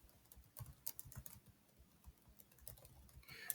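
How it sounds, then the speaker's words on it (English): Quiet clicking of keys on a computer keyboard as a username is typed, a loose run of soft taps with small pauses, faint and close, with no voices. "Next, on the right, you want to type in a username."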